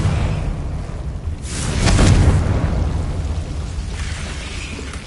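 Confringo spell explosion in Hogwarts Legacy: a deep boom with a noisy burst that swells around the middle, then a rumbling decay under steady low background sound, with no voices.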